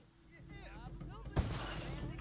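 Fireworks bursting at a festival in The Sims 4, a low rumbling boom building under soft game ambience and a voice, with one loud burst near the end followed by a crackling wash.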